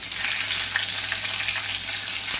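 Cumin seeds and chopped garlic frying in hot oil for tur dal, a soft, continuous close sizzle with faint crackles and a light tap near the end.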